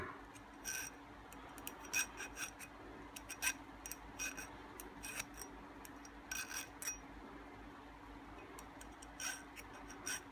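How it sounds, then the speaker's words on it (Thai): Quiet, steady rasping strokes of a fine file sharpening a saw blade, repeating in an even rhythm with faint ticking scrapes and no talking. "ตะไบต้องใช้ตะไบละเอียดเนาะ ตะไบรับคมใบเลื่อยก็ได้ฮะ"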